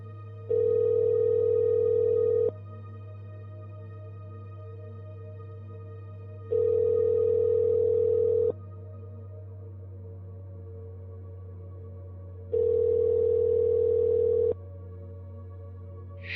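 Telephone ringback tone heard over a line: three long steady buzzing tones about two seconds each, separated by pauses, over a constant low hum.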